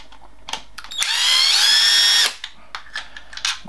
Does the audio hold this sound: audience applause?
no